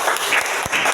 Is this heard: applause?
yes